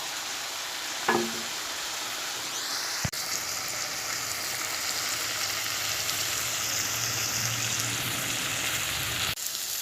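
A steady, loud sizzle of fried chickpeas in hot oil in a pan, with a clink near the start and a sharp knock partway through.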